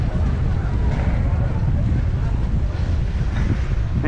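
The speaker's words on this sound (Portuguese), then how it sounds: "É ruim que tá vento, mano." Strong wind buffets the microphone outdoors during a bike meet, a continuous low roaring rumble that dominates throughout.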